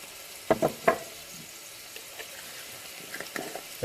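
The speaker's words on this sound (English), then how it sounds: "Now my mince has been frying for about 3 minutes" Lamb mince frying in a pan, with a low steady sizzle and a few short bursts of stirring and scraping, close and fairly quiet with no talking.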